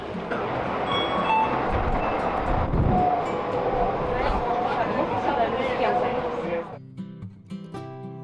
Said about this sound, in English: There are many means of transportation in Dubai, and one of them is monorail.